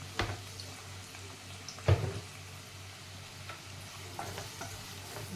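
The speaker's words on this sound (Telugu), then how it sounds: "ఆనియన్స్ వేగుతున్నాయి" Chopped onions and green chillies frying in hot oil: a soft, steady sizzle at low level, broken by a couple of spatula knocks against the pan.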